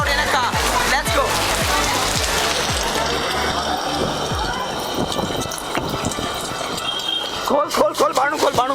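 Heavy rain pours steadily during a ride, a dense hiss with tapping drops and splashes, joined by voices and footsteps, in Rajkot.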